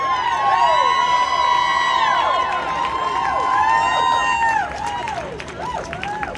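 A crowd at a street rally claps and cheers loudly, while a siren wails and whoops over the noise and fades toward the end.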